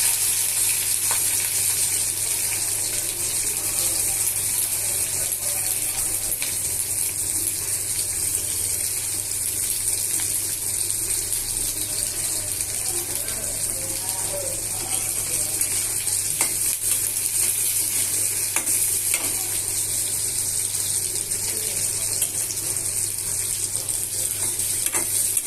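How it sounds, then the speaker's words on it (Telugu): Onion pieces fry in oil in a pan on a stove for an eggplant and raw mango curry, a loud, steady sizzle that runs unbroken throughout. "ఉల్లిపాయలు వేగుతున్నాయండి"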